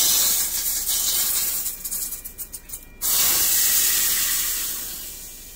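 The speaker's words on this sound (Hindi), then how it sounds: "ये तो मैंने एक्सपेक्ट नहीं किया था कि तड़का उछल के बाहर आएगा, पर आया।" Tadka of curry leaves, asafoetida and garam masala poured into hot oil, giving a loud steady hiss and sizzle with a brief burst of crackling splatter midway, then a strong sustained sizzle that slowly fades.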